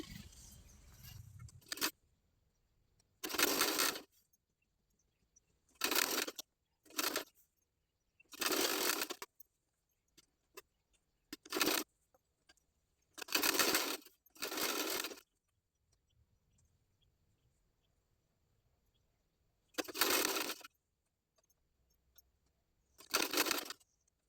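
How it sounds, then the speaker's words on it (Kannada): A sewing machine stitches sleeves onto a girl's top in about ten short, close bursts of running needle noise. Quiet pauses separate the bursts. "ಈ ಸ್ಲೀವ್ಸ್ನ ಕರೆಕ್ಟಾಗಿ ಇಟ್ಕೊಂಡು 2 ಲೇಯರ್ನ ಕರೆಕ್ಟಾಗಿ ಇಟ್ಕೊಂಡು ಸ್ಟಿಚ್ ಮಾಡ್ಕೊಳ್ಳೋಣ."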